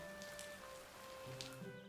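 Steady soft rain falls in a farming video game, a continuous even patter at low level with no voices over it.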